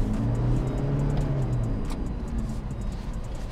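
A 2024 Toyota Fortuner facelift accelerates on sandy ground, its engine giving a loud, sustained, close drone from inside the cabin with no talking.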